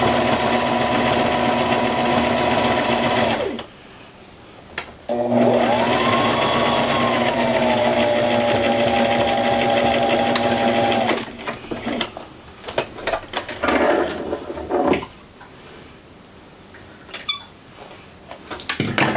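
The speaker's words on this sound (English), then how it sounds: "So I'm just sewing along the edge" A serger whirs steadily as it stitches along the edge of a reusable cloth pad, running loud and continuous, pausing briefly, then restarting in a long run before stopping into scattered handling noises.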